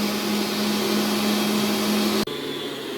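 An electric mixer whirs at a steady pitch while beating cream cheese for a frozen caramel cheesecake, a loud, continuous motor drone that cuts off abruptly near the end, leaving a quieter background hum.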